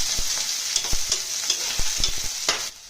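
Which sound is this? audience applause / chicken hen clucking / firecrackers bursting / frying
frying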